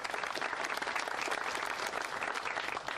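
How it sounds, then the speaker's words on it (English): A crowd at a golf invitational's final round applauds steadily, dense clapping held at an even, fairly moderate level without a break, no talk over it. "Big round of applause for them."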